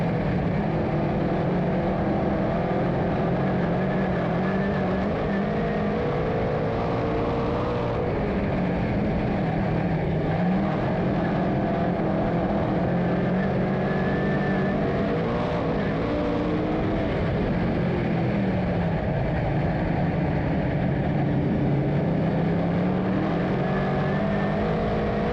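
Race cars run laps at Albany Saratoga Speedway, their engines a continuous loud drone that rises and falls as they circle for about twenty-five seconds.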